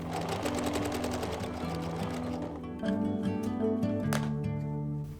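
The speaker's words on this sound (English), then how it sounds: "guide it through the sewing machine when you're backstitching" A sewing machine runs steadily for several seconds, backstitching a fabric drawstring bag, its needle stitching in a fast, even mechanical rhythm with a continuous hum, close by.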